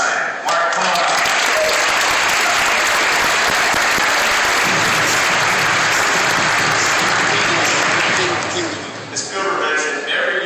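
Loud, sustained applause fills a conference hall at SolidWorks World 2013 as Mark Schneider is welcomed on stage, a dense, even clapping that lasts about ten seconds before thinning out.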